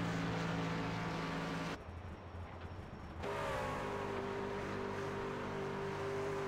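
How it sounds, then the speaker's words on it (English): Racing truck engines droning loudly in iRacing during qualifying at Las Vegas, a steady high-pitched engine whine with shifting harmonic tones. A short muffled stretch near the middle breaks it up before the roar resumes at full level. "Gotta turn them trucks down some,"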